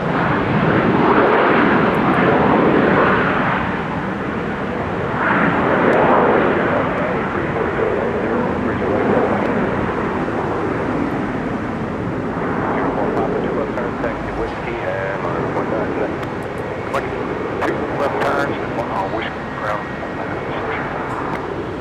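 An Airbus A330 jet airliner passes with a loud, rasping engine roar that surges and fades in broad waves, and a person talks over the engine noise.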